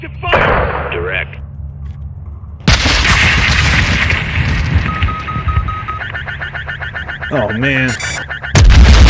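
Gunfire and heavy explosions in the Modern Warfare 2 campaign, loud blasts and rapid shots over radio chatter and a brief voice, with a sharp boom midway and a final burst.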